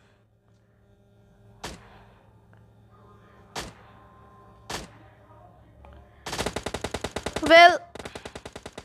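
MP5K submachine gun in PUBG fires three separate single shots, then a rapid full-auto burst of about a dozen rounds that continues after a short pause, loud and close; someone speaks briefly.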